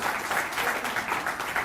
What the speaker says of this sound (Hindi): आपकी तरफ से स्वागत स्वरूप जोरदार तालियां जरूर